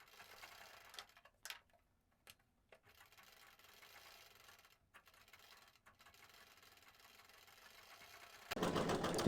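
A sewing machine attaches a sleeveless blouse piece with golden top thread, a quiet low mechanical whir broken by short pauses before it suddenly grows loud and buzzing at the very end.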